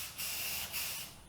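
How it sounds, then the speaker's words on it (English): Aerosol filler primer is sprayed onto a car body panel of a 1985 Fiero, with three close, loud hissing bursts separated by short pauses. "I just used some aerosol filler primer that I already had."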